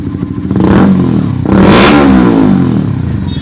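A Honda CBR 150 Facelift motorcycle with a modified three-mode exhaust set fully open in sport mode, revved hard twice up close into a loud, deep, bassy roar that settles back between blips.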